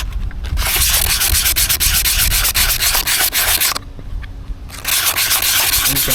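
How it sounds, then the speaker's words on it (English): A gold pan's bottom is scuffed in circles with an abrasive, a loud, gritty rubbing up close that pulses with each stroke, pausing briefly before resuming. "It's important to do circles because that helps ensure greater coverage in the bottom of the pan. And we're going to scuff that up."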